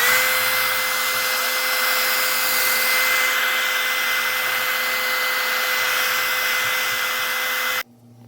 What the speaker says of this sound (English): use a heat gun or a hair dryer on a low setting to speed up the drying process